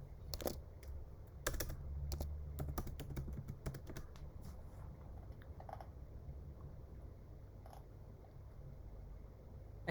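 Quick, light keystrokes on a computer keyboard tap out a short search query, a cluster of close clicks followed by a few scattered taps over a low background hum.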